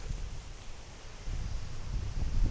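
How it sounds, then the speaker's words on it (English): Wind blowing outdoors while a large mimosa tree is being taken down, a low steady rushing gust with rumbling buffeting that swells slightly toward the end, no voices. "the wind's just wonderful in my favor"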